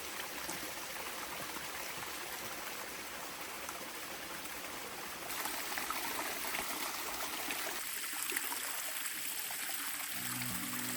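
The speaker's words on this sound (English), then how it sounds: "I'm just gonna hang them into the spring" Spring water flows steadily and close by at an outdoor off-grid spot where olives are soaked, a broad continuous trickling rush that grows slightly louder partway through, with no talking.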